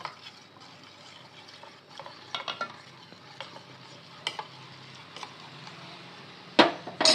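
Custard mixture being stirred into milk for a fruit salad, a spoon scraping and swirling in a pot with soft intermittent clinks, close and fairly quiet, ending with a sharper knock of utensil against the vessel.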